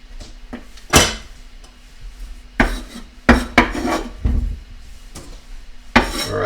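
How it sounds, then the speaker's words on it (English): Chopped onions tossed into the base of a pan, loud close clatters and scrapes of metal cookware and utensils in irregular bursts, with no talking. "I'm going to throw the onions that I just cut into the base of this pan."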